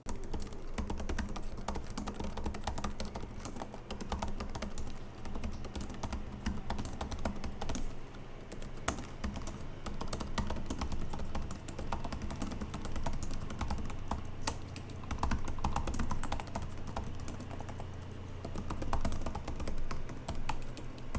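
Typing on the pantograph keyboard of a Razer Blade Stealth 13 laptop: a continuous rapid patter of soft, light key clicks, close and steady for about twenty seconds, with no voices.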